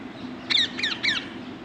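Parrot squawking three times in quick succession, short harsh calls close by over a low steady background hum.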